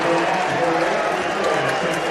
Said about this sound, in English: Listen to that St. Ed's crowd.